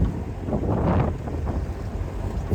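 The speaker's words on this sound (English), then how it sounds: "the wind wasn't in their favor for making Gloucester under sail, so it was back to motoring for the rest of the day" A wooden sailboat motoring under engine at sea in wind, a steady low engine drone mixed with gusty wind buffeting the microphone and the wash of water, with no talk.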